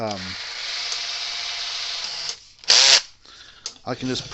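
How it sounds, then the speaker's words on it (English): A power drill drills off a part on an old Sears electric fence charger, buzzing steadily for a couple of seconds, then stopping; brief rattling clicks and short bursts follow. "So we'll just drill it off, I guess."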